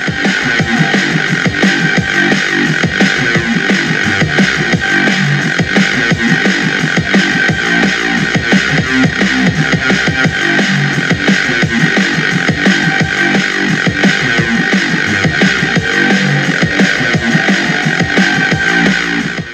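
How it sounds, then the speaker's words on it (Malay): Dense, loud music with a steady beat and full sound playing continuously from a Sonic Gear KBX900 portable Bluetooth speaker, no voices over it. "Ini adalah bunyi audio yang terdapat pada speaker KBX 900FX ini."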